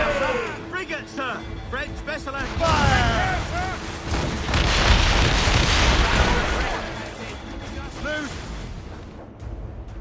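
Ship cannons firing during a naval battle in Assassin's Creed Rogue, a rolling series of deep booms and blasts that swell midway, mixed with shouted voices and whistling sounds over a continuous roar of battle.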